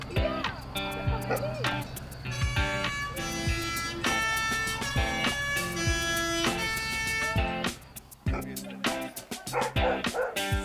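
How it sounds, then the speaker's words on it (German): Amelie, a family dog in a Swiss farmhouse kitchen, gives repeated yips and barks with a few whimpers, close and fairly loud, mixed with music playing underneath. "Das ist unser Hund."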